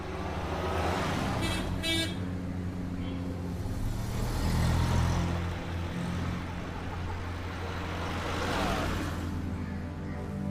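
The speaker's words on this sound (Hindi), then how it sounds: "चलो जल्दी चलाओ गाड़ी।" A car is driven on a busy road, with a steady engine and road rumble, passing traffic whooshes, and short horn toots early on, with no talk heard.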